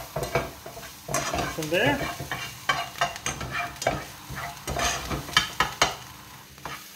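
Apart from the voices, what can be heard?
bacon and onions frying and being stirred in a pan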